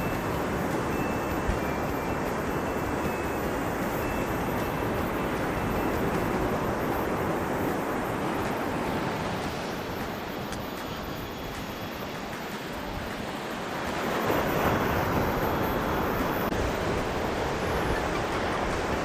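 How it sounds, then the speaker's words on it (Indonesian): Ocean waves crash continuously on Pangasan beach, a loud broadband roar of surf that swells in a big breaking surge near the end, with no voices. "Ini kalau wow, suara ombaknya"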